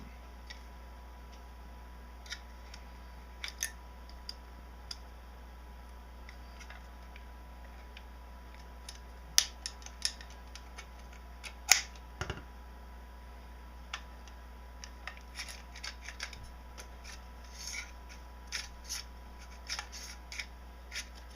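Faint, sparse mechanical clicks and a few sharper snaps as the bolt assembly and charging handle slide out of a Magpul PTS Masada rifle, over a steady low hum in a quiet room.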